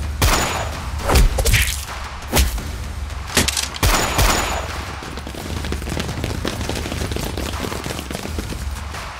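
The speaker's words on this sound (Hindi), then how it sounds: "अचानक अतुल ने अपनी बंदूक निकाली" Several sharp gunshots crack out in quick, irregular succession in a dramatized Hindi audio story, then give way to a noisy background.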